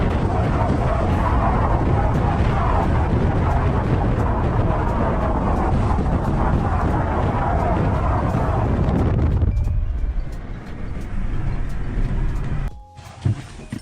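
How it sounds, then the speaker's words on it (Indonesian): Heavy wind buffets the microphone outdoors, a loud constant roar for most of the stretch that drops off sharply toward the end, leaving quieter rumble and a brief gap. "Aku buka tapi banyak suara angin ya."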